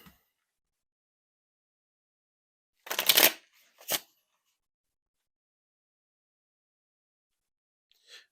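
An oracle advice card deck, the Major Pain deck, being shuffled in two brief bursts, a longer riffle followed by a short one, close and alone in an otherwise quiet room.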